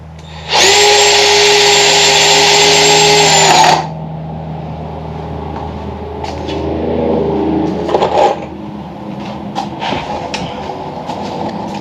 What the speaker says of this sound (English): On this extra side support, I'm going to go ahead and put my screws in